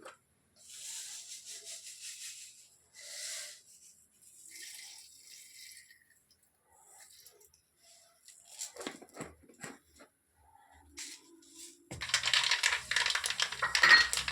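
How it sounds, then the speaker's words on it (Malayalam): Mustard seeds pop in hot sesame oil in a pan while pickle is being made. The quiet, scattered crackles come at first, then a louder burst of sizzling and popping closes the stretch. "കടുക് പൊട്ടാൻ തുടങ്ങി."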